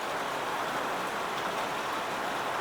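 Steady rain pours down outside a shed, an even, close hiss of drops on surfaces that continues without pause and with no voices.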